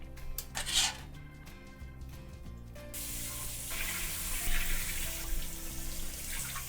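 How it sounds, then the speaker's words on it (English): Cold tap water gushes steadily into a sink over roasted vegetables being rinsed, a constant splashing hiss after some clattering, with faint music underneath. "then you can rinse them off with cold water to stop the cooking"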